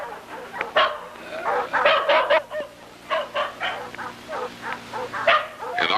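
Several dogs bark in an anime scene, a pack of overlapping barks and yelps in quick irregular bursts, fairly close, over a low background hum.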